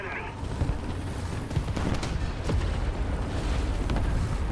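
Tank video game battle with a tank being destroyed: dense, continuous rumbling explosions and bursts of gunfire fill the whole stretch, loud and sustained with sharp cracks throughout.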